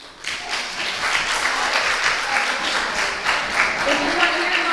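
A conference audience at a business retreat claps together in a sustained, dense burst of applause that rises quickly and holds steady, fairly close and loud, with no voices above it.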